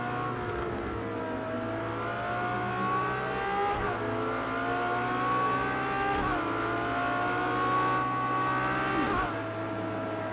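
A LaFerrari racing around the Nürburgring in Project CARS 2, its engine screaming steadily with rising and falling pitch through gear shifts and corners, loud and close throughout, with no talking.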